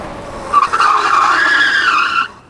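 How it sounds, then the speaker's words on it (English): A 60V Motor Goat V3 e-bike tire squeals loudly during braking, a sustained high screech lasting about two seconds before cutting off abruptly. "the tire squealing noise might not be for everyone"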